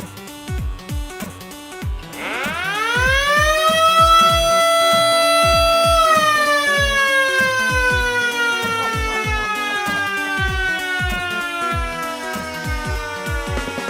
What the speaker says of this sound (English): That's an old Dennis fire engine. What a racket.